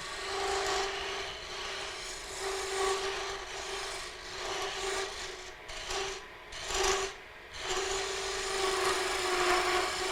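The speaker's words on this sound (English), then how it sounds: "With a scraper, you'll be using it the opposite direction because you're cutting away from the wood." Scraper cutting wood on a wood-turning lathe, a continuous close rasping scrape over a steady hum of the spinning lathe, with brief dips where the tool shifts, no talk.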